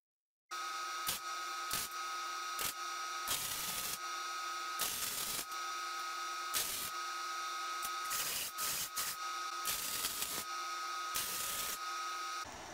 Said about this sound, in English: Now it's time to tack weld them in.